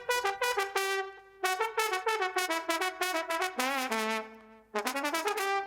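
A solo trombone, isolated from a 2008 concert recording in Mexico and treated with delay, plays a run of short and sustained bright notes with slides and brief gaps, heard alone.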